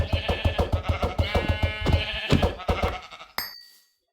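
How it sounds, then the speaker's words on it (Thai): Sheep bleating in the video game Minecraft 1.10.2, a rapid run of short, evenly repeated bleats up close, ending with a brief sharp game sound before falling silent. "เจอแกะเอาให้หมด"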